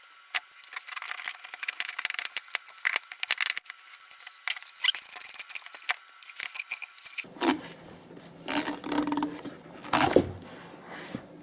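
A hand ratchet works on the thermostat housing bolts of a 4.7L Dodge Durango, rapid close clicking in bursts, then heavier metallic clanks and scrapes as the housing loosens.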